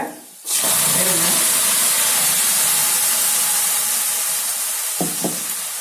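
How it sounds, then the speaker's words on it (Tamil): Ground masala paste for chole frying in a pan, a steady loud broadband sizzle and hiss that starts abruptly and continues throughout, with a couple of faint stirring knocks near the end. "பச்சை வாசனை போக இதை அப்படியே கைவிடாமல் கலருங்க"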